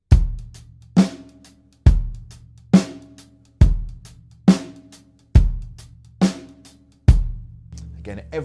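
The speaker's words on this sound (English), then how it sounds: "That's a groove often known as the half-time shuffle" A swung 16th-note half-time shuffle on a drum kit, with every other subdivision played slightly late. Heavy backbeat hits ring out over soft, lilting ghost ticks. The kit is close and solo, with no talking.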